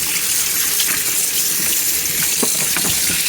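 Running tap water rinses excess blood from a freshly processed free-range chicken in a sink, a steady close splashing flow with brief spatter bursts throughout.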